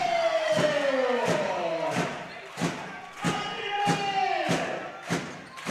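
A handball arena crowd cheering during a men's Olís league match between KA and Fram: a roaring, chanting crowd under rhythmic thumping drum beats and a rising and falling horn or siren wail, with a commentator talking over it.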